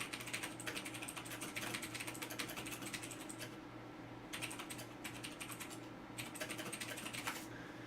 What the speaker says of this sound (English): let me just type something here